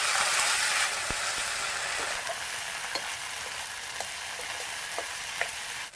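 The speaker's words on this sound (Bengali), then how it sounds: "জিরা আর কালো জিরা একসাথে ফোড়ন দিয়ে দিলাম।" Cumin and nigella seeds sizzle in hot oil as a tempering for a spinach and red lentil dal, a steady dense hiss with a few faint clicks of stirring, close and alone with no voices.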